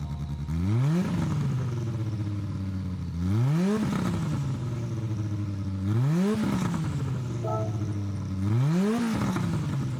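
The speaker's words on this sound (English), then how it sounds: "I'm going to click on this car, we'll listen to the startup sound" A 1986 Peugeot 205 Turbo 16 Evolution 2 rally car engine in Gran Turismo 7 revs repeatedly, four rising blips each falling back to a steady idle, loud and close.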